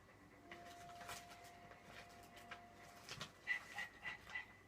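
A dog in the video game Dragon Age 2 pants and breathes in quick, rhythmic huffs, fairly faint, with a few soft whimpering tones and short beeping sounds near the end.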